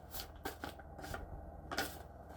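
Tarot cards being shuffled at close range in several soft, papery riffling bursts with brief pauses between them, fairly quiet over a low room hum.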